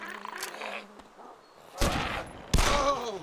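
Gunfire from players in the survival game DayZ: two loud, broadband bursts of shots in the second half, preceded by quieter rustling and faint noise, with no clear talk over them.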